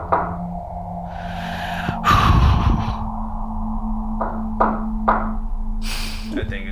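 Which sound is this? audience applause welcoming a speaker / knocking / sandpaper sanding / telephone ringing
knocking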